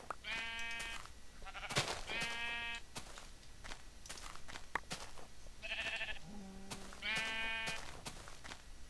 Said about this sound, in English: All I can hear is sheep screaming now.